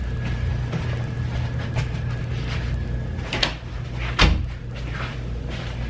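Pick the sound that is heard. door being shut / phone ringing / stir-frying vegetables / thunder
door being shut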